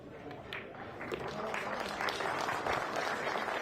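Audience applause at a 10-ball pool match, the semifinal of the 2022 Arcadia Arizona Open, steady and sustained through the whole stretch, with a faint voice talking underneath.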